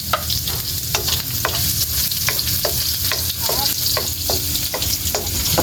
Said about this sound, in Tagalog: Medyo mainit na talaga yung mantika. At saka yung sibuyas.